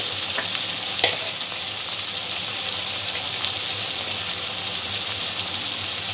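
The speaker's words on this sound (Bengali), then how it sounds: "গ্যাসের ফ্লেমটা এই অবস্থায় লোতে রেখেছি, মশলাটা যাতে ভালোভাবে কষা হয়ে যায়।" Spices with turmeric fry in a pan over a low gas flame for Bengali chicken ghugni, giving a continuous close sizzle with faint scraping stirs and no talking.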